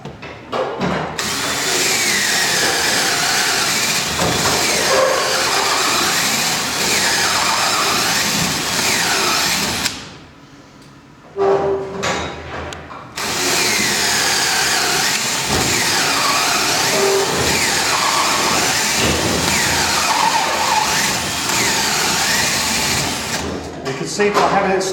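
A power drill with an auger bit bores steadily into the edge of a timber door for a mortice lock, a loud continuous whine with a brief stop and restart partway through.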